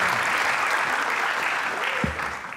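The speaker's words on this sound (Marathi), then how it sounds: "एकदा जोरदार टाळ्या वाजवा पुन्हा एकदा निक." Audience at a stand-up comedy show applauding in a steady, dense wash of clapping that holds for the whole stretch, with a brief low thump near the end.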